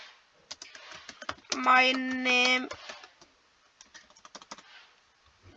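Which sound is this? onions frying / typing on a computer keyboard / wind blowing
typing on a computer keyboard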